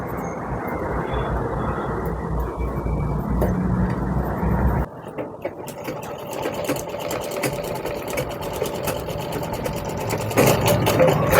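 A sewing machine stitches tucks on a blouse, a close steady mechanical whirr that breaks off and then restarts with a rapid clattering rhythm, with no talking.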